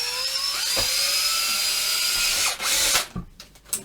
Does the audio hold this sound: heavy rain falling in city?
no